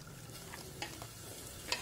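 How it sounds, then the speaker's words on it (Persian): Chopped onions fry quietly in a pot with a soft, steady sizzle, broken by a few faint scrapes and taps of a utensil stirring them. "اول پیازهای خرد شده رو توی قابلمه بریز و تفت بده"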